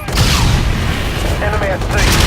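Deep, rumbling bombardment explosions in the shooter game Infinite Warfare, loud and continuous booms layered with crackling blasts, mixed with a voice speaking over the barrage.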